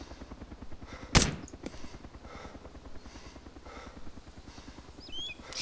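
Gunfire in Arma 2: DayZ Overpoch: a rapid, steady automatic burst runs throughout, with one loud sharp shot standing out near the start and fainter reports in the background.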